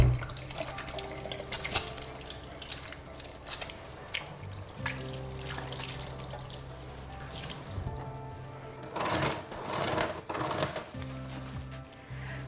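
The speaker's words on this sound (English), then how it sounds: "it's really important that you wash your hands before preparing your baby's bottle" A tap runs water into a sink during handwashing before a baby's bottle is prepared, with a steady flow, splashing bursts and dripping and a low background hum.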